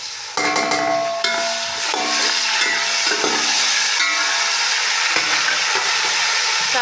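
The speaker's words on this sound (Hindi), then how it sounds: "साथ ही हम इसमें शामिल कर देंगे टमाटर।" Tomatoes drop into browned onions and cumin frying in ghee, bringing a loud sizzle and hiss with clinks and stirring scrapes of a utensil against the pan.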